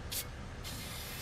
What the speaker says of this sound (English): spray them real quick with some rust penetrant